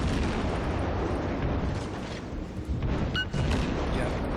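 Naval gunfire and shell impacts in World of Warships, a continuous heavy roar of booms and bursts with a couple of sharper hits late on.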